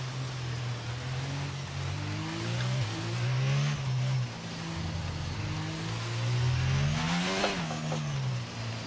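Formula 1 car engine in the F1 22 racing game, revving continuously with rising and falling pitch through gear changes and a sharp surge near the end, loud and steady with no talk.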